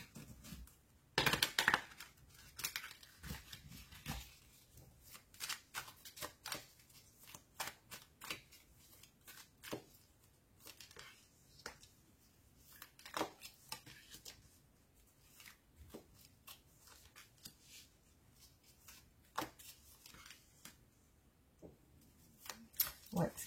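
Tarot cards shuffled and drawn by hand at close range, a steady run of crisp riffling flicks and soft slaps of card on card, with quiet background room tone.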